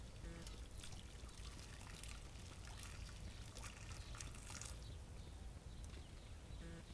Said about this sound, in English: I'm just going to fill these by the cupful of water